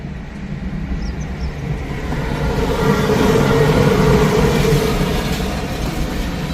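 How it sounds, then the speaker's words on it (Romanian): A long train of about four wagons rolls past near Rarău and Voroneț in Romania, a steady broadband rumble that swells gradually and holds loud through the passage, with no voices. "Ce tren lung!"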